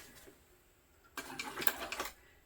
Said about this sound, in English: Just sew right on it.